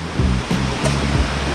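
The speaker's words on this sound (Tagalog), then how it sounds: "dito tayo ngayon sa ano ba tawag dito sa falls na to?" Madulas Falls waterfall roars close by in a steady, loud, unbroken rush of falling water, with no voices over it.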